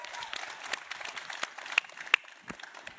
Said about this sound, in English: thank you, everyone, for the applause as well